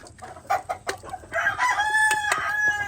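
A rooster crows loudly and close by, with clucking from chickens being fed conditioning food around it; the crow holds steady after a run of sharp clucks, and no one speaks.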